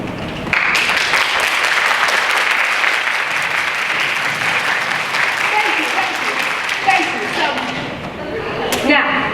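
A crowd bursts into loud, sustained applause, dense clapping that keeps going for several seconds with a few cheers near the end.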